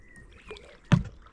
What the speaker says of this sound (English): paddling past some farmland